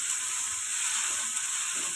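Onions fry in a pan with a steady, close hiss and sizzle, alone and unbroken for two seconds, without any clear stirring sound or talk.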